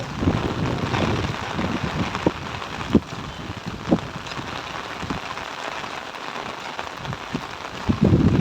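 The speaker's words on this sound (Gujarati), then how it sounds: "પવન પણ ભૂકા કાઢે છે" Strong wind buffets the microphone in rainy weather, with a constant rushing roar outdoors and scattered drops and thumps.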